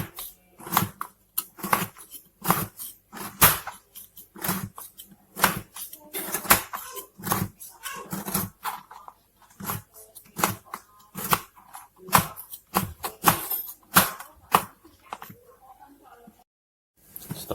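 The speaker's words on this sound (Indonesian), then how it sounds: "Sekarang kita iris-iris gula merahnya supaya lebih cepat cair." A knife slicing a block of palm sugar (gula merah) into pieces, heard as a long run of sharp, crisp cutting clicks, mostly steady but sometimes irregular, close and fairly loud, with no talking.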